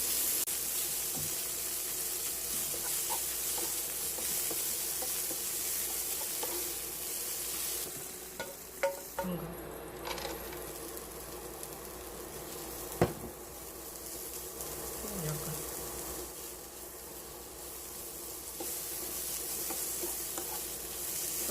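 Burdock and vegetables stir-frying in a pan for japchae, a continuous close sizzle with occasional utensil clicks and knocks against the pan, no talking.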